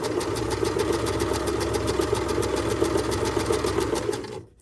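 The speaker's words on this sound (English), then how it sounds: "I slow down or stop to remove the pin and then continue stitching" Sewing machine stitching a plain seam, a fast, even, rapid-fire mechanical chatter running steadily at close range, then stopping abruptly at the end.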